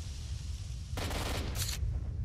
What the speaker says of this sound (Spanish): escucho disparos, ¿eh?